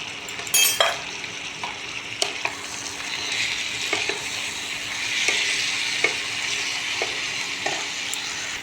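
Ground chilli, coriander, turmeric and cumin fry in a pan with a steady bright sizzle, punctuated by several sharp clicks and scrapes of a spatula stirring, close and loud.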